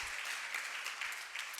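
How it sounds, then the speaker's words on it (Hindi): Audience applause during a Jain sermon, a steady dense wash of clapping from a crowd that holds evenly without a break, moderately quiet and with no voice over it. "हाँ, ताली बजाने से काम नहीं चलेगा।"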